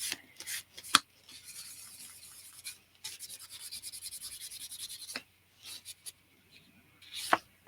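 Sandpaper rasping across playing cards for a distressed, aged look: close, scratchy back-and-forth strokes in several bursts, with a longer steady rubbing run in the middle and brief quiet pauses between.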